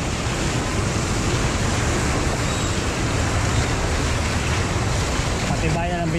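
Floodwater on a service road during typhoon Emong, a dense continuous rushing wash of water with churning roar under vehicle movement, loud and unbroken throughout.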